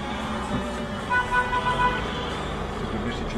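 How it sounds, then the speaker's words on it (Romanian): A car horn gives a few short, faint beeps amid steady road and engine noise while driving around Roman, with people talking in the car. "Care claxonezi?"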